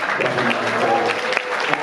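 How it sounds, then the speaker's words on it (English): Brief burst of audience applause for AR Rahman at an Avengers: Endgame press conference, a dense wash of clapping lasting under two seconds with a few sharper claps near the end. "I really, really want to do one more round of applause for AR."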